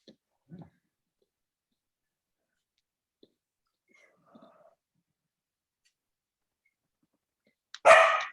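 A dog gives a single sharp, loud bark close by, near the end of an otherwise almost silent stretch with only a few faint sounds earlier, during a home strength class.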